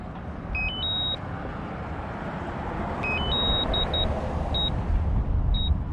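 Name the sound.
drone controller return-to-home beep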